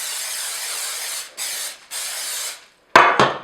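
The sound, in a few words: non-stick cooking spray sprayed into cake pans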